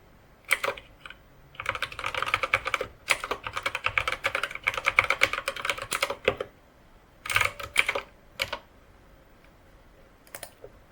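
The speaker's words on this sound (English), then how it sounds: "you can directly start typing at the REPL" A computer keyboard clatters with fast bursts of typing at a Common Lisp REPL in VS Code on Windows, close and crisp, broken by short pauses and a few isolated keystrokes near the end, with no voices.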